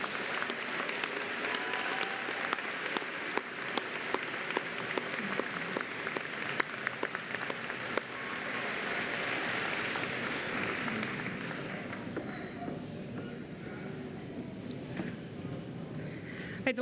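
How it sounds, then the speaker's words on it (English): A graduation-ceremony audience claps steadily for nursing graduates at a 2019 pinning event, a dense sustained wash of applause across the whole stretch with no words spoken. "Let's give all the graduates a round of applause."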